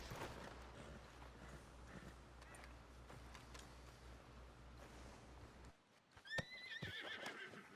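A horse in Red Dead Redemption 2 whinnies sharply near the end, after a steady bed of hoof clip-clop and game ambience, with several brief thuds following the neigh.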